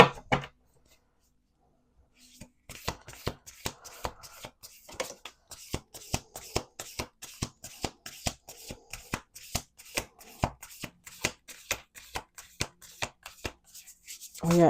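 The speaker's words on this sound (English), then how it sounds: "We're gonna do two more shuffles." A deck of playing cards being shuffled over and over, heard as quick bursts of crisp riffling clicks close to the microphone, with short pauses between shuffles.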